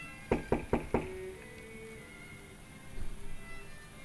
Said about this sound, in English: when he heard someone knock on the door